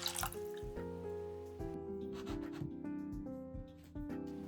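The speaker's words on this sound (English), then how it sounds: "Then I add 250 grams of water." Water poured onto about 260 grams of rinsed rice in a Japanese clay donabe, a soft continuous trickling and splashing with faint ceramic resonance, close and quiet with no talking.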